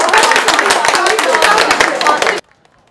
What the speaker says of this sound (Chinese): 社区居民开心的鼓掌叫好